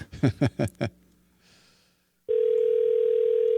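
A telephone call on a brand new number: after a few spoken words and a short pause, a steady electronic ringing or dial tone comes in and holds loud and unbroken to the end.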